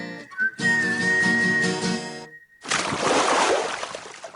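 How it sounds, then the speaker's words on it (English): A music composer whistles a melody alone, a clear sustained tone bending through the phrase for about two seconds over a backing track, then giving way to a splashy, noisy burst of sound. "The whistling that I just mentioned"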